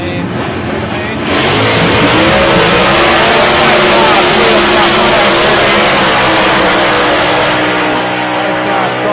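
Drag race cars at South Coast Raceway accelerate across the line in a sudden, very loud, sustained engine roar that bursts in after a brief quieter lead-in and stays near and overwhelming.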